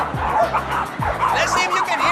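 Several dogs at a Hong Kong dog cafe bark and yip excitedly as another dog approaches, sharp repeated barks close by over a busy, noisy room with some talk in the background.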